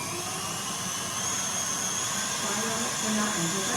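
An electric whisk whirs steadily as a teaspoon of vinegar is beaten into pavlova meringue mixture, a continuous high motor hum that stays even and fairly quiet throughout.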